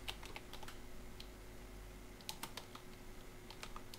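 Rapid clusters of keystrokes on a computer keyboard while a blog post is typed, with short pauses between bursts over a steady low hum; close and clear, with no talking.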